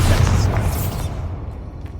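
A Bombarda spell blast in Hogwarts Legacy, a heavy low boom at the start that rumbles and fades over about two seconds with no talk.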